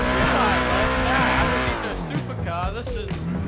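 A V8 engine revs hard and climbs in pitch, then drops and roars again with tire squeal, loud and close, with voices talking over it, from the video game GTA 5.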